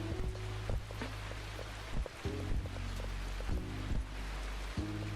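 Rain ambience in the Garden Life cozy simulator game, a steady soft patter of rain under gentle lo-fi music with repeating low tones, no talking.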